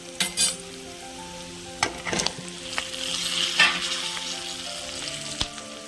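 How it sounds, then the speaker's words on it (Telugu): Washed, dried okra tipped into hot oil, a sharp clatter and burst of sizzling followed by steady frying and occasional stirring knocks, close by with no talking. "బెండకాయలు వేసుకుందాం ఇప్పుడు"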